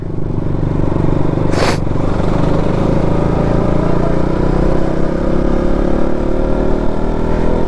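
A motorcycle engine, compared to a KTM Duke 200, revs loudly and close by, a dense steady roar with a brief clatter near the start and no talk over it.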